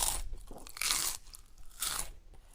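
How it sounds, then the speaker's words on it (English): Loud, close crunching and chomping in a few bursts, like a giant dinosaur biting into the moon as if it were a chunk of cheese; the crunch sound effect plays alone with no talk. "It chomped on the moon like a big chunk of cheese"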